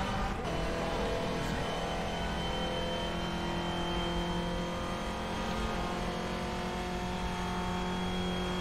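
Race car engine in the rFactor 2 simulator, a steady loud drone with sustained tonal harmonics throughout, no big revving swings, constant and close.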